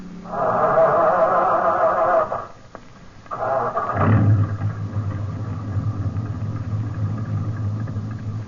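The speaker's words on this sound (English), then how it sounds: "Start your engine" A military truck in a night convoy, as a radio drama sound effect, whines as the starter turns the engine over, then after a brief pause catches and settles into a loud, steady low rumble of idling.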